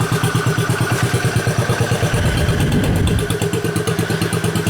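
A nearby motorcycle engine idles with a steady, rhythmic putter, then revs up for about a second before settling back to a lumpy idle. It is loud and close, with no talking.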